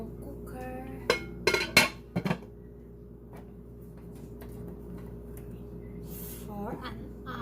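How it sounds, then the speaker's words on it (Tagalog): Beef kaldereta being put into a slow cooker: a quick cluster of sharp metallic clinks and clatters of pot and utensils early on, then quieter kitchen rustling over a low steady hum, with faint talk. "So I'll put it in slow cooker."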